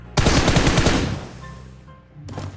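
A rapid burst of automatic gunfire in PUBG Mobile, aimed at a vehicle's tyres, loud and close, running for about a second before an echoing tail fades and a short second burst starts.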